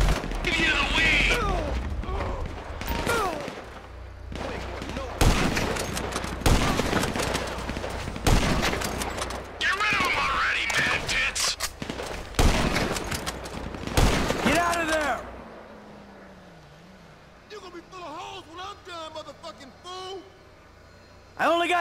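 Heavy gunfire rattles through a shootout in the video game GTA V, with dense bursts and loud sharp shots under shouting voices and music, easing into quieter scattered sounds near the end.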